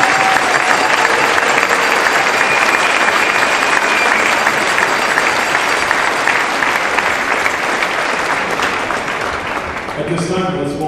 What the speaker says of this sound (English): If you could just give that group there a round of applause.